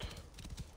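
Horse hooves clip-clop in the Assassin's Creed Origins video game, a short run of soft, rhythmic footfalls at close range over a steady low background hum.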